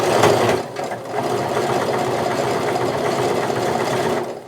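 An overlocker stitches a seam joining fleece and sweater knit for a pillow cover, its fast whirring motor running close and continuous before stopping at the end.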